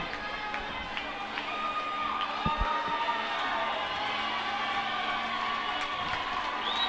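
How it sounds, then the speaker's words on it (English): Vocal crowd cheering at a high school basketball game in a gym, a steady roar with shouts and whoops mixed with talk, and a couple of sharp knocks partway through. "Had a vocal crowd here tonight."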